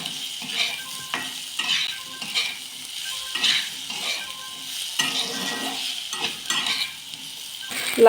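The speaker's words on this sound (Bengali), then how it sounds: "লাল করে ভাজা হয়ে গেছে" Spices with salt, turmeric and a little sugar sizzle in a hot pan, fried until reddened, while a spoon scrapes and stirs in repeated strokes, close up and steady.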